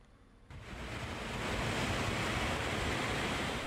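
Ocean surf at Jetis beach in Cilacap rises from a quiet start into a loud, broad, continuous roar of crashing waves and wind, with no voices.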